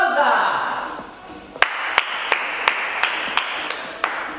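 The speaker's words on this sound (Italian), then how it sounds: "Oggi ti applaudo" Hands clap seven or eight times in a steady, evenly spaced rhythm, crisp and close, following a fading voice at the close of an elastic-band leg and glute workout session.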